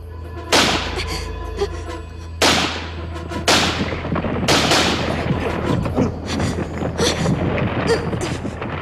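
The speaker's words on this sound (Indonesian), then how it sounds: "Siapa suruh kamu menembak?" Several loud, sharp gunshots ring out close by at irregular intervals, with echoing tails and clatter between them in a tense dramatic scene.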